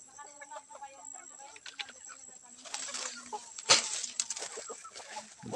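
A flock of hens and chickens cluck and chatter nearby in a backyard flock grown from two mother hens to thirty, with overlapping calls, a louder squawk midway and faint wing rustling throughout.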